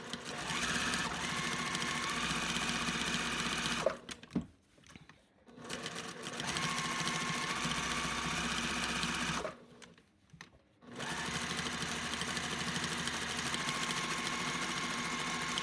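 A sewing machine runs steadily while stitching felt pieces along the back of a craft snowman, pausing twice for a second or so before resuming, loud and close with no talking.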